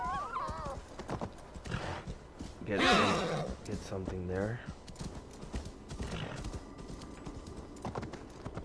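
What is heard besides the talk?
horse hooves and neighing in video game Assassin's Creed Valhalla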